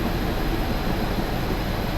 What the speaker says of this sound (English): Nice train track travel, that sounds good.